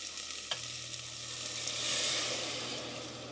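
Water poured into a pan of cooked chicken toppings gives a steady, soft hiss and sizzle that swells toward the middle, with one sharp click near the start and a low hum underneath.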